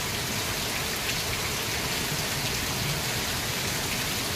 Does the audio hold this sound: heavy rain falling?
yes